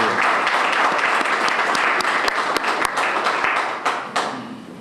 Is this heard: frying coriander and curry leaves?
no